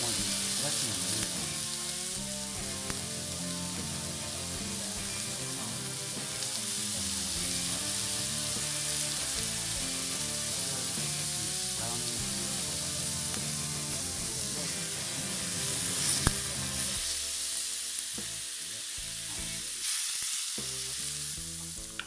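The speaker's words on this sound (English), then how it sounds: "put some oil in that skillet, get it really hot, and sear it quickly on both sides" Venison steaks searing in oil on a very hot griddle give a steady, close sizzle that holds throughout, with music playing underneath and brief moments of spitting.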